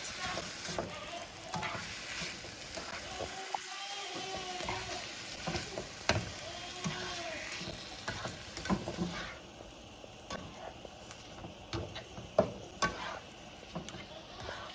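Chicken pieces for a chicken, shrimp and sausage gumbo sizzle and crackle steadily in a hot pot, with stirring scrapes and occasional knocks close by throughout.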